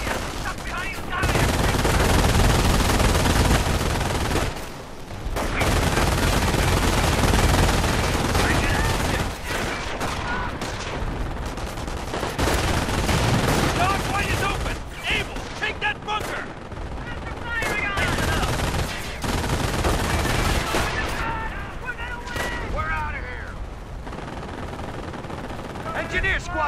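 Gunfire in the World War II strategy game Company of Heroes: dense rifle and machine-gun bursts in sustained volleys with short pauses, loud and continuous, with brief voice callouts mixed in.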